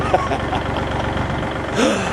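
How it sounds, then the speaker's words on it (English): A steady low engine rumble runs throughout, like a tractor idling nearby, with some faint voice sounds over it. "Somebody's gonna yell at me about the tractor going in the background."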